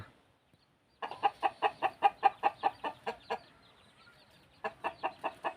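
Thai Yia chickens in a rural countryside setting cluck in a quick, rhythmic run of about a dozen sharp notes, fall quiet for a moment, then start another close, clear burst.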